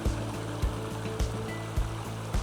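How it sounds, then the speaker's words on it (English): A small creek flows with a continuous wash of moving water, punctuated by regular low thumps roughly every half second, with no voices. "we're gonna let this creek settle out a little bit more"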